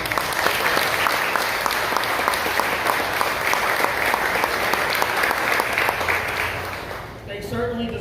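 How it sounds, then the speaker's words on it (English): Audience at a September 11 remembrance service at a fire department applauding officers, sustained crowd clapping throughout, fading briefly near the end. "They certainly deserve that round of applause"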